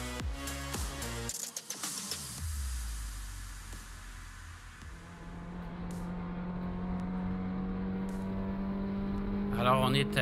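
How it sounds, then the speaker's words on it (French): Inside a Nissan Sentra Cup race car at Circuit Mont-Tremblant, the engine keeps up a steady droning hum, with a low tone that settles in and holds during the second half, as a voice talks over it. "on est à bord de la voiture de Simon Charbonneau"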